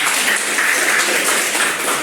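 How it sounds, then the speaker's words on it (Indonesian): Sustained applause from a classroom of pupils for a student named Devran, a dense, even patter of many hands clapping close by, steady throughout with no voices over it. "tepuk tangan buat Devran"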